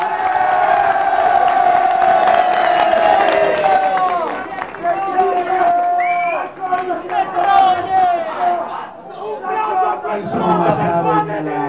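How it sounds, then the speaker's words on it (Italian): A studio audience cheers and shouts loudly, with whoops and crowd noise carrying over scattered clapping, and voices calling out throughout. "Un applauso a Richard!"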